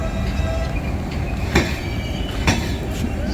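A Jaynagar–New Delhi superfast express train moves off with a steady, loud rolling rumble. Rhythmic wheel clunks sound over the rail joints.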